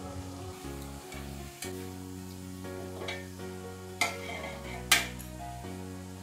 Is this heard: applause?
no